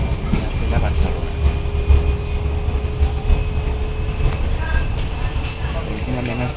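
Rodalies R2 Nord commuter train running between Mollet Sant Fost and Barcelona Clot Aragó, heard from inside the car: a steady low rumble with rhythmic clatter and a faint tonal whine, with passengers talking throughout.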